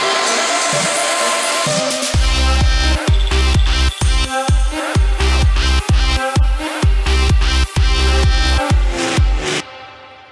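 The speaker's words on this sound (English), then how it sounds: "I'll play you a quick snippet of my latest remix I'm working on" A loud, dense electronic dance music remix drop pounds along with a heavy sub-bass pulsing in a rapid rhythmic pattern under bright synth layers, playing alone without speech before stopping abruptly.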